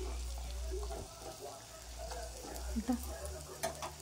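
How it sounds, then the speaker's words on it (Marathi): Brinjal fries in oil with a little salt, giving a steady low sizzle under faint kitchen clatter. A voice speaks briefly over it. "थोडेसे मीठ आणि तेल वांगी फ्राय करण्यासाठी।"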